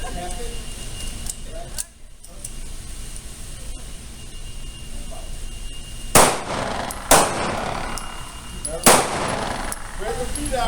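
Pistol shots fired on a police-run basic shooting training range, three sharp loud reports spaced a second or two apart over steady outdoor background noise.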